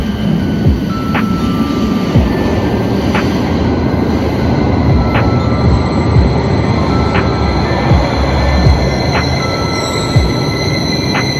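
A train at a station gives a steady, loud rumble with rhythmic metallic clacks roughly every second, continuous and without voices.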